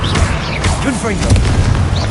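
The Confringo blast spell fired in Hogwarts Legacy, a loud booming burst and crackle mixed with magical whooshes, with dense game effects and layered over other spell sounds.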